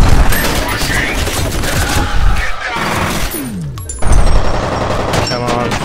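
Rapid bursts of automatic gunfire and heavy impacts in the shooter game F.E.A.R., loud and continuous with a brief lull before a fresh volley, while someone talks over the action.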